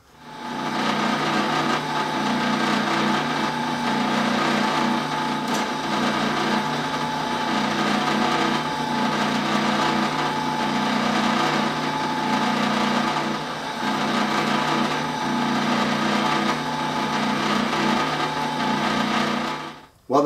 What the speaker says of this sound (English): So go ahead and drill these three marker holes